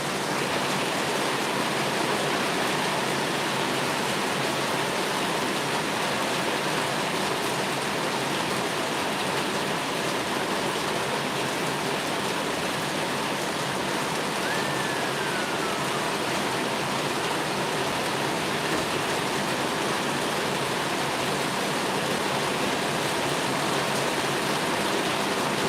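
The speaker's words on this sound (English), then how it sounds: "it's raining a little bit" A light rain falls outdoors in a continuous, even hiss of patter that holds steady without pause, fairly loud and close, with no voices over it.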